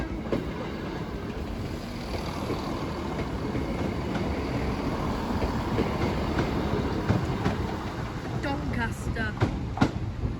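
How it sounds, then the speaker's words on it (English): A train rumbles past Sleaford East level crossing, a steady heavy rolling roar with rising clatter and brief high squeals near the end, heard close and loud without talk. "here's the bus train approaching."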